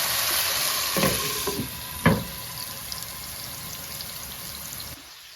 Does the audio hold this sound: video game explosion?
no